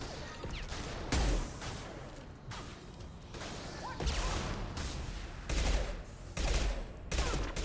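Mass Effect 2 combat with repeated gunshots and heavy impacts in uneven clusters, loud and busy with mechanical clatter and whooshes mixed in, and no voices.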